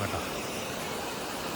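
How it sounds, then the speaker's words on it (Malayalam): Water spilling out of a pond near Kottakkal makes a steady, even rushing hiss with no pauses and no voices. "നമ്മളിവിടെ താഴെ ഇവിടെ വെള്ളം ഒഴുകി പോകുന്നുണ്ട്."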